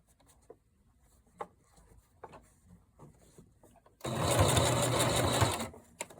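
Sewing machine stitching ruffle pleats with lace onto fabric, quiet handling clicks and rustles of cloth first, then a loud, fast continuous motor whir for about two seconds before stopping.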